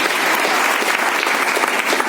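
An audience claps loudly and steadily at a stage event, a dense, even burst of applause with no voices over it.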